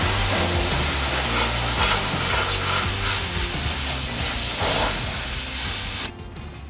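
Cleaner sprayed onto a bare-metal 1970 Chevrolet C10 truck frame during restoration, a steady loud hiss of spray that runs continuously for about six seconds and then cuts off.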